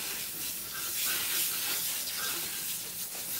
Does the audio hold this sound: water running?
yes